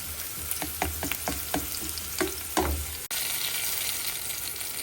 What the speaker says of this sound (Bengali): তো ভাজা ভাজা হোক।